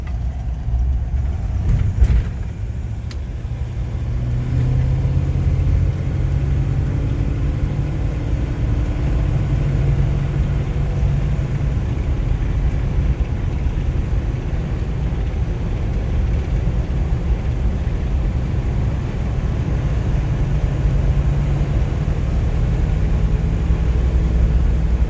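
A 1953 Buick Roadmaster Woody accelerates on the road, its engine building into a steady low rumble with road and wind noise that holds continuously and fairly loud from inside the car.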